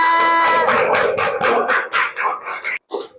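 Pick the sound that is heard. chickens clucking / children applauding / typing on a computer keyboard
children applauding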